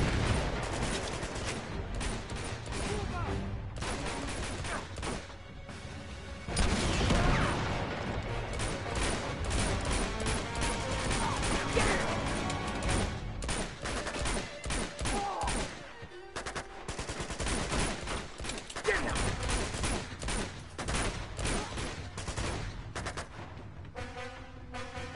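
Dense, sustained gunfire in Uncharted 2: rapid bursts of shots crackle almost continuously at close range, with brief lulls between volleys and no talk over them.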